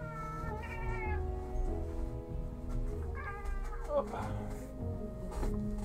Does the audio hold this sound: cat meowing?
yes